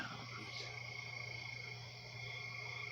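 Swamp frogs and crickets make a steady, faint chorus, a constant drone of croaks and high chirring that continues evenly throughout.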